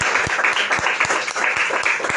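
Congregation applause during a church sermon, a loud continuous wash of clapping with soft low thumps recurring throughout, filling the short stretch without speech.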